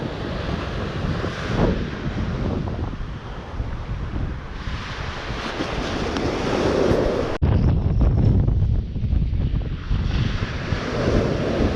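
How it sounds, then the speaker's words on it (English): Ocean waves break and wash up a beach in continuous rolling surges, loud and close, with heavy wind buffeting the microphone. "Damn waves tried to catch me 3 times."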